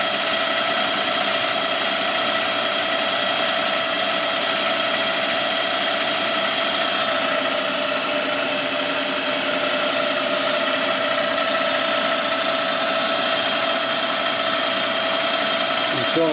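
A boring machine cuts the cylinder of a 1958 Harley-Davidson 74ci FL Panhead during a top-end rebuild, producing a loud, continuous whirring hum with a steady tone throughout.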